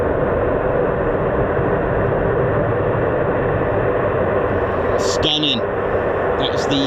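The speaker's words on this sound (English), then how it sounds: "That was the KC-135 strato tanker." A KC-135 Stratotanker passes at RAF Mildenhall as a loud, unbroken jet roar that fills the whole stretch, with a brief burst of faint voice-like sound near the end.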